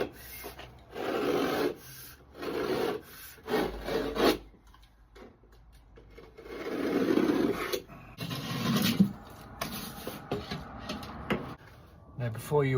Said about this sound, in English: they're ready now just for me to cut the plasterboard and fix that to it